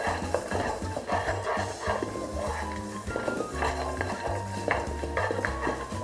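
A spatula stirs almond crunch, almonds coated in crystallising sugar, around a flat-bottomed wok over high heat, giving a close, dry rattling and scraping that repeats in steady strokes.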